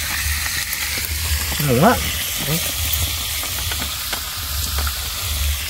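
Toko fish frying in oil at a night camp, giving a steady crackling sizzle throughout, close and loud, while someone briefly speaks over it.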